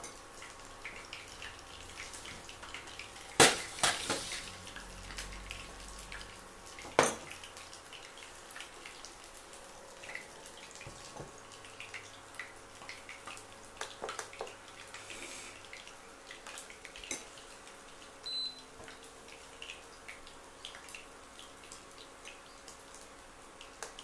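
Coated food frying in hot oil, a faint steady sizzle with scattered pops and a few sharper clatters, no voices.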